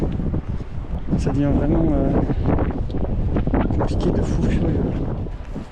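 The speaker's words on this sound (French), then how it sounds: "Il y a trop de vent." Strong gusting wind buffets the microphone on a mountainside while trout fishing, a steady roar under someone talking throughout.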